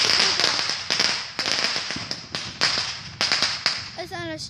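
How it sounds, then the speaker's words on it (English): Fireworks crackle and bang in the sky in rapid, irregular bursts, near and loud, with faint voices and a brief whistle near the end. "There's fireworks in the sky."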